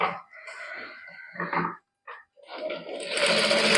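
A sewing machine stitching a palazzo pleat runs in short bursts, stopping briefly, then starts again and speeds into a fast, loud whirring run at the end.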